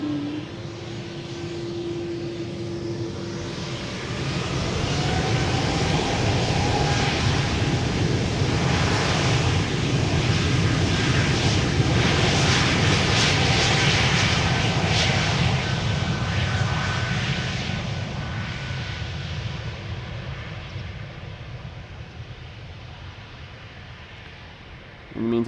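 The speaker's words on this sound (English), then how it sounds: "I am starting to hear those CF6s of the A330" An Airbus A330 with GE CF6 engines spools up at Amsterdam Schiphol Airport, a broad jet roar that builds, holds strong for several seconds, then slowly fades, with light background noise.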